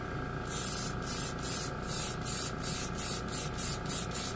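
Metallic red paint sprays in short, even bursts of hissing mist, about ten light passes in a steady rhythm, close by and alone.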